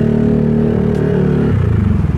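A Honda Stylo 160 scooter engine idling low and smooth in slow, congested traffic, with a close, steady hum that drops in pitch toward the end.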